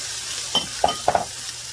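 Red peppers and green onions sautéing in a pan for pork chops with rice, a constant close sizzle with a few short stirring scrapes and taps and no one talking.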